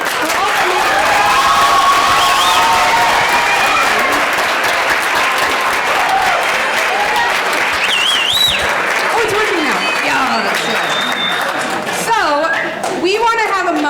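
An audience applauds middle school students at Lamoille Union Middle School, steady dense clapping that fills the whole stretch, with a few voices and cheers rising near the end.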